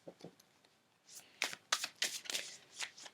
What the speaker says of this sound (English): I am going to pull the cards and then we'll get started.